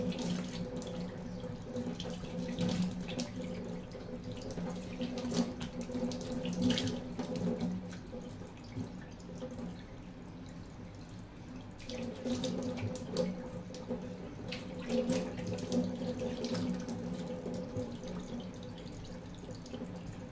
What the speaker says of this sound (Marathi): आता धुवून घेते स्वच्छ.